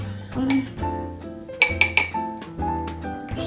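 Dry chocolate chip cookie mix ingredients, including flour, baking soda, baking powder and salt, are stirred in a glass bowl, giving repeated ringing clinks and scrapes of a utensil against the glass, close and clear.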